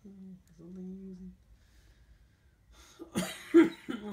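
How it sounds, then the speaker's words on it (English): Several short, sharp coughs come from a person indoors, bunched together near the end. They follow a quieter stretch of soft vocal sounds and are loud and close. "this room makes me cough."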